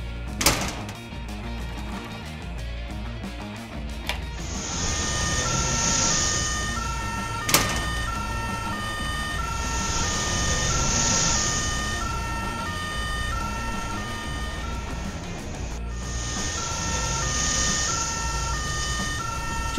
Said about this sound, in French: Les pompiers arrivent.